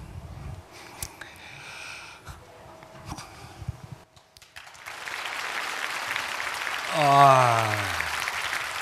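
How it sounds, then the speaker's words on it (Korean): A crowd at the 2014 Korea Best Dresser Swan Awards breaks into sustained applause that swells into a dense wash of clapping. Murmured voices and speech come before it, and a voice cuts through the clapping. "여러분 박수 좀 크게 보내주죠"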